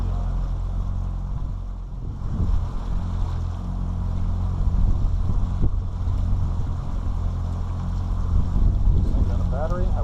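A pontoon boat motor rumbles steadily with wind buffeting the microphone and water rushing past, a constant low drone throughout, cruising the Kissimmee River in Florida.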